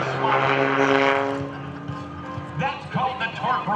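A propeller airplane engine roars loudly and steadily during an aerobatic torque roll at an airshow, its pitch shifting and then dropping into a rougher, pulsing drone.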